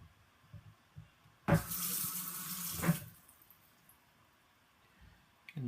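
Water runs from a tap for about a second and a half, a steady hiss that stops abruptly, with quiet handling noises before and after.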